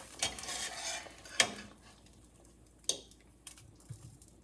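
Boiled potatoes mashed in a bowl: a few sharp utensil clinks against the dish at irregular intervals, with soft squishing between, close and fairly quiet.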